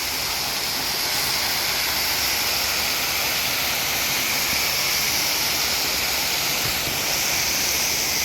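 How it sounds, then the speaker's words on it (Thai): Waterfall at a temple with a naga serpent statue, water pouring down from above in a steady, loud, unbroken rushing hiss. "จะมีน้ำตกไหลมาจากด้านบนนะครับ"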